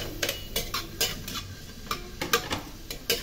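Garlic stirred into hot oil in a pan while cooking laing, a soft sizzle under repeated scraping and tapping of a utensil against the pan in an uneven rhythm, close and fairly quiet.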